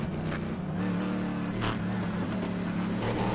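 A race car engine drones steadily and close, its rough uneven note from a misfire as if running on about seven cylinders, with no talk over it.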